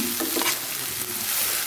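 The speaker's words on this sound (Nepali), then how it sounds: "यहाँ हाम्रो बजेटले काटेर टुटो टुटो बनाइदिनु भयो त्यसलाई चाहिँ भुट्दैछु" Chopped pieces of tite sizzle in a hot pan as they are fried and stirred, a close, steady crackling hiss with brief scraping stirs near the start.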